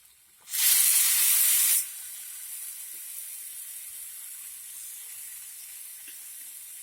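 Fried vadiyalu, sun-dried lentil dumplings, drop into tamarind stew with a sudden loud sizzle that lasts about a second before settling into a steady, quieter hiss.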